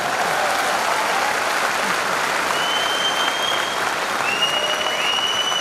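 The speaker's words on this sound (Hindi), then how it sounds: "तालियां बजा सकते हैं आप?" A seated crowd at a business seminar in India applauds loudly and continuously, a thick wash of many clapping hands that holds steady from start to finish, with a few faint whistles rising above it.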